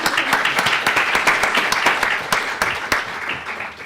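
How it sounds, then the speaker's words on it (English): Audience at a London faith and belief community awards ceremony claps steadily and warmly for a few seconds, a dense patter of many hands close by with no talking. "Yes, you can clap."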